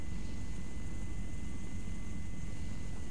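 Continuous heavy rotor and engine drone from a Chinook helicopter in ARMA 3, a loud, steady roar with a faint constant whine, no voices.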